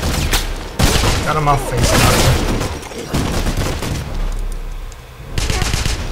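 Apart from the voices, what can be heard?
gunfire and exploding barrel in video game Wolfenstein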